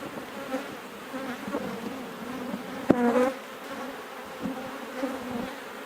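Honey bees buzz around an open hive during an inspection, a close, wavering drone of many wings with individual bees swelling louder as they pass near, plus a brief knock from handling the frames.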